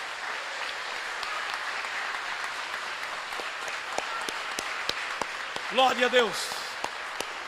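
A church congregation claps in praise during a service, a steady patter of many hands at moderate distance, joined near the end by a voice speaking over it.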